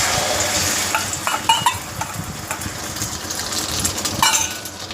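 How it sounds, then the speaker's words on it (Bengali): Two beaten eggs seasoned with salt and pepper fry in white oil in a wok, giving a steady sizzle broken by scraping stirs and light clinks of a spatula against the pan, close and fairly loud. "সাদা তেল দিয়ে প্রথমে দুটো ডিমকে আমি নুন আর গোলমরিচের গুঁড়ো দিয়ে ফেটিয়ে রেখেছি। ডিমটা ভালো করে ভেজে নেব।"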